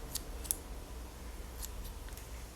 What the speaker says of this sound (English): Let's take the scissors and chop that piece off.